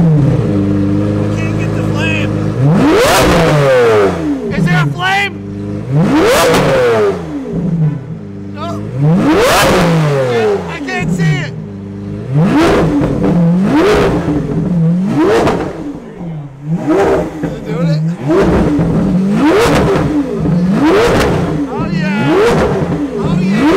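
A Lamborghini Aventador Roadster on the Las Vegas Strip revs its engine repeatedly, about eight loud rising and falling roars up close with short pauses between, and people talk in the background.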